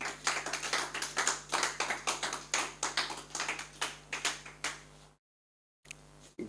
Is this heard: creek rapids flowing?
no